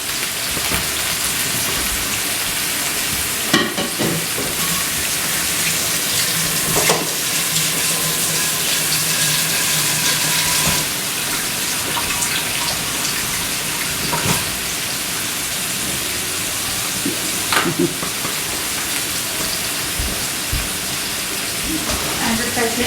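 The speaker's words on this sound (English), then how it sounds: "Okay, so the steak's cooking." Steak sizzling in a pan with roasted garlic Dijon butter, a steady crackling hiss that runs throughout with small pops and clatters.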